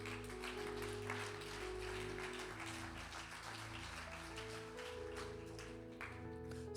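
A church congregation applauds over sustained organ or keyboard chords, steady broadband clapping filling the room for several seconds at moderate level.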